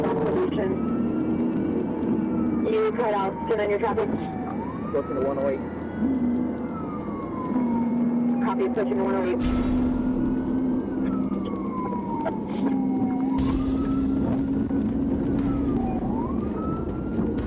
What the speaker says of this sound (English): lit up the sirens